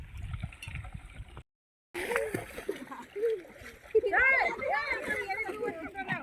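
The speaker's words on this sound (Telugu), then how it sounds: "కాలువ నీళ్ళు అద్భుతంగా వచ్చేస్తున్నాయి" Canal water gushes and splashes into a village pond nearby, a continuous churning flow, while people talk over it.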